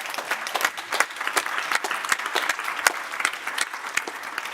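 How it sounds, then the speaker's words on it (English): A conference audience gives a round of applause for an expert panel at the close of a session, crisp and lively, with many distinct hand claps layered into a fairly loud, close, continuous burst. "Please join me in a round of applause"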